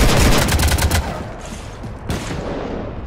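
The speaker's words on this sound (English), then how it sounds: "You want to stop shooting up my ship?" Rapid burst of gunfire in Mass Effect 3, dense sharp shots for the first second, then a trailing rumble with another loud crack and echo, no talk over it.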